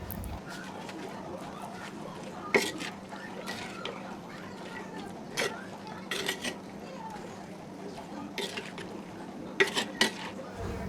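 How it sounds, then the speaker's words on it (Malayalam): Sparse metallic clinks and scrapes of a spoon against a pot of Kerala koottu curry over a quiet room, with faint voices in the background. "എന്നിട്ട് ഇതെല്ലാം കൂടി നമുക്ക് നന്നായിട്ടൊന്ന് മിക്സ് ചെയ്തെടുക്കാം"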